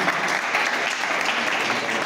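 A church wedding congregation applauds, a dense, steady clapping from many hands filling the room for a couple of seconds without any speech.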